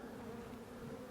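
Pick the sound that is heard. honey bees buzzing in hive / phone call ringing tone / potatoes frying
honey bees buzzing in hive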